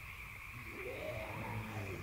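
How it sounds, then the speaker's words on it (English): Croaking frogs and chirping crickets form a steady nighttime ambience in the Albion Online game world, a constant insect band with low, uneven croaks beneath, moderately loud and with no voices. "the frogs and the crickets and everything in here"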